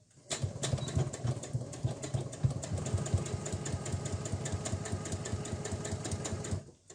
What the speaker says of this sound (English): I'm just going to sew across the top and across the bottom here